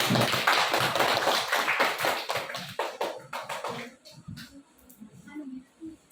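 A class applauds a group's presentation with a burst of dense, energetic clapping that thins out and fades into scattered claps within a few seconds.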